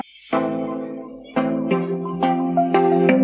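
Music plays from a small, light APS4003 Bluetooth speaker with lights, cranked to maximum volume, with tonal notes entering in several distinct steps, fairly close and with no voices.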